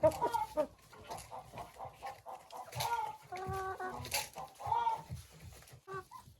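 Hens cluck and call in short, repeated bursts, fairly close, with busy overlapping poultry sounds throughout and no talking.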